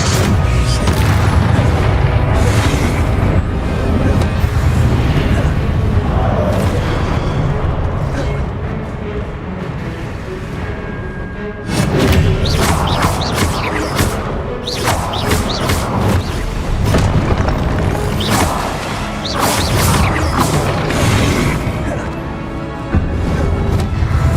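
Expelliarmus disarming spells strike in the Hogwarts Legacy video game as heavy booming impacts and crashing bursts, loud and layered, with a brief lull midway before more blasts resume; faint voices mixed in.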